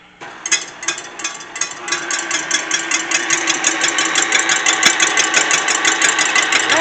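An electric stand mixer whips heavy cream for cheesecake, starting with a click and then running as a loud, steady mechanical whir with a rapid rattling pulse, with no talk over it.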